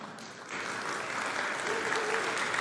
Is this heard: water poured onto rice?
no